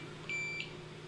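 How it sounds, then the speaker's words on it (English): A kitchen timer is set while bread dough rests: two quick, thin electronic beeps close together, clear and alone over a quiet room hum. "I'm going to set a timer"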